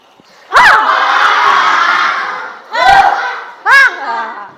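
A group of children in a classroom yell together loudly in three bursts: one long sustained shout, then two shorter, sharp cries close by.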